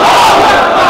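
A crowd chants a religious slogan in Bengali at a political-religious rally, many voices loud and sustained together in unison, filling the whole moment.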